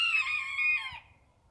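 A rooster on a homestead crows loudly and close for about a second, with faint background noise after the call dies away.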